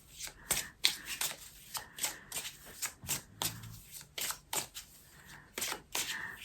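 Oracle cards from an I Am deck shuffled by hand in a quiet room, a run of crisp riffling flutters and soft slaps repeating every half second or so, close and clear, ending as a card is drawn.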